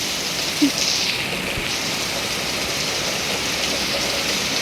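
Rain falling over open rice fields, a steady, even hiss of drops that fills the whole stretch without pause, with one brief knock near the start.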